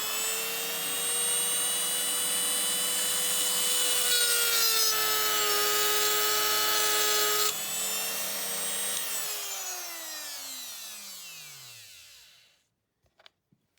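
A small power tool trims the edge of a Zymex Boeing 727 die-cast model part with a steady, high, buzzing whine. The pitch shifts slightly under load, then the tool winds down to silence, followed by a few faint clicks.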